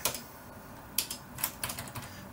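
Close, crisp keystrokes on a computer keyboard while Arduino Serial.print code is entered, a handful of separate clacks spaced unevenly over a couple of seconds.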